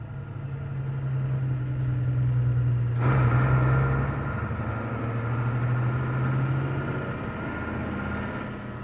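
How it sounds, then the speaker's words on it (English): A heavy 4x4x2 Zugmaschine tractor idles and rumbles steadily while towing a liquid oxygen fuel container, a deep continuous engine drone with a brief louder surge partway through, alone without voices. "A heavy-duty 4x4x2 Zugmaschine tows the all-important liquid oxygen fuel container."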